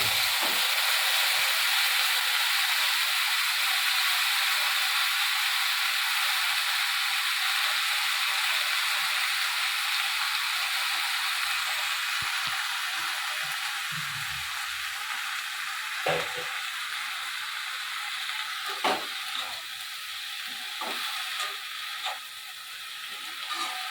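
Steady broadband sizzle of potatoes frying in oil in a pan as banana flower goes in, with a few scraping and clattering knocks toward the end; close and continuous, no voices.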